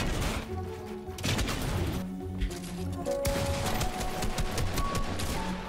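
Rapid bursts of gunfire from a new weapon in Fortnite, loud and close, with dense overlapping shots and crashing impacts in quick volleys and brief pauses between them.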